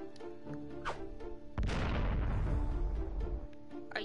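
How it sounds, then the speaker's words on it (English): Bombs burst in Atelier Rorona, a sharp boom about a second and a half in, swelling into a long, loud rumbling blast over a game soundtrack. "Why are there so many bombs?"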